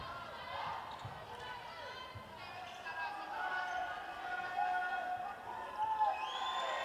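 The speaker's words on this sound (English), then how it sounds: "The crowd are definitely enjoying themselves as this game goes into the final quarter." A crowd cheers faintly at a basketball game between Northern Ireland and Samoa in the final quarter, a distant wash of voices and whoops that swells slightly toward the end with occasional ball bounces.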